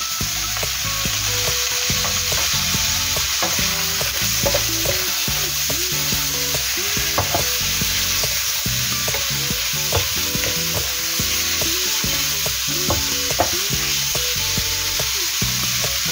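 Carrots stir-fry in a hot pan for chow mein, with a continuous loud sizzle and frequent scraping, clattering stirring strokes close by and no talking.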